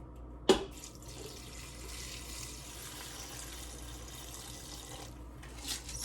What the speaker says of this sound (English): all I got to do is cover it with the liquid